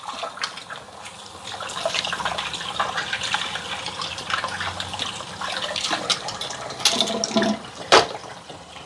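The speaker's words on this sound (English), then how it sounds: "Just wash my hands." Hands being washed under a running kitchen tap, a steady broad rush of water with splashing and brief louder bursts near the end, fairly close and with no talking.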